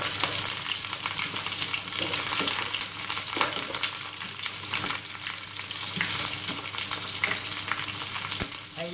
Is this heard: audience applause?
no